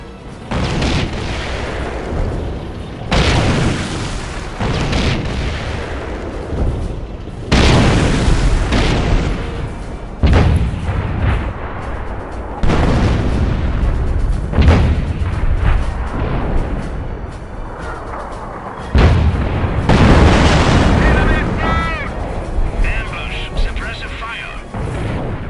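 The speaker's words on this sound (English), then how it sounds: "Kampfgruppe Leer can now deploy sector artillery to strike fear to the hearts of the enemy." Heavy sector artillery barrage in the Company of Heroes WWII strategy game, with repeated loud booming impacts and rumbling blasts arriving in waves, under voiced battle dialogue and chatter.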